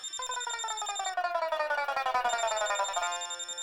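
An electronic phone ringtone plays continuously, a bright melodic warble repeating rapidly, fairly close and clear, with no voices.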